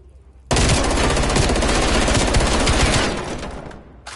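Dense automatic gunfire from a gun in Call of Duty Cold War, a loud continuous burst of rapid shots lasting a few seconds before tapering off, with no talk over it.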